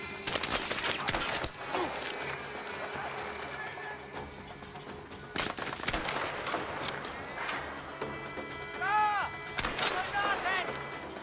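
Battlefield 5 gunfire crackles in repeated bursts of sharp shots, near and loud, mixed with explosions and other battle noise, while a player talks over the action.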